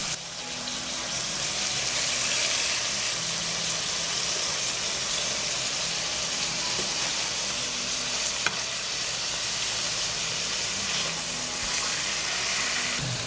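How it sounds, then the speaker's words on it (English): Steady, loud sizzling of chicken fillet frying in a hot pan, a continuous crackling hiss with an occasional faint click, no voices. "I fry the chicken fillet on both sides for 5 minutes."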